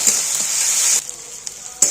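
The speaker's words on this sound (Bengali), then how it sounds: "এটাই আমি আগে ভালো করে মশলাটা ভেজে নেব" Spices hiss and sizzle in a hot pan, a steady frying crackle that briefly drops before flaring up again at the end.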